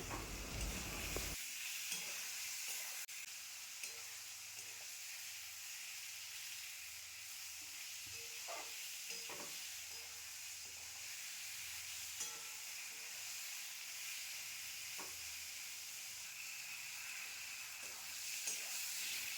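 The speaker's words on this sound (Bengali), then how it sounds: "নাড়াচাড়া করতে হবে ভালো করে যতক্ষণ না মশলাটা কষছে।" Spices fry in oil for a Bengali ilish fish curry, giving a steady, close sizzle and hiss for nearly twenty seconds. Scattered scraping clicks come from stirring in the pan, and nobody speaks.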